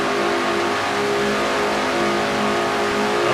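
From inside a race car circling the Michigan oval, the engine revs hard at a little over 8,000 RPM, a loud, sustained, close-up roar with no talk.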